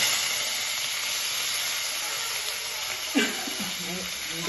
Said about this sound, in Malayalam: അതിലേക്ക് അല്പം ഉലുവ, അല്പം ജീരകം, കറിവേപ്പില,